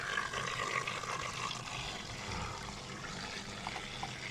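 Steady rushing water pours into an aquarium tank, a broad noisy splash and gurgle with no talking, fairly even in loudness throughout.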